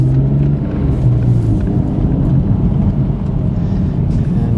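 Car fitted with a VF Stage 2 supercharger kit cruising on the road, a steady low engine rumble with faint whine and road noise from inside the cabin.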